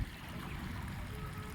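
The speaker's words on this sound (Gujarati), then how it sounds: "આપણે પાણી ચાલુ કરી દીધું છે દેખો" Irrigation water flows steadily into a millet field, a continuous low rushing and trickling wash at moderate level with no break and no voices.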